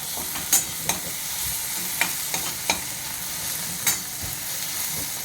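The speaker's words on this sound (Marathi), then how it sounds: "चांगलं परतून घ्यायचं." Brinjal pieces being sautéed with salt and asafoetida in a hot pan: a steady close sizzle of frying with several sharp scraping clicks from the spatula spaced irregularly, no voices.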